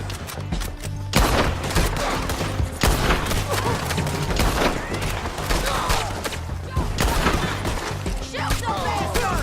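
Heavy gunfire in the Red Dead Redemption 2 video game, with a rapid run of loud, close shots and sharp cracks that repeat irregularly throughout, mixed with some background clatter.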